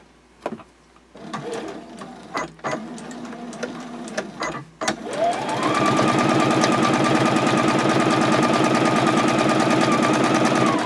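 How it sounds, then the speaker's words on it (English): A sewing machine top-stitches along a fold in fabric for a card clutch, first running in short stop-start bursts and then settling into one loud, continuous, rapid mechanical rattle. "Then I'll go ahead and top stitch on that second fold."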